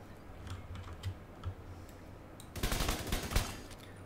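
Gunfire in The Division 2 erupts as a dense, rapid burst of shots partway through, after a quieter stretch of faint clicks and scattered taps.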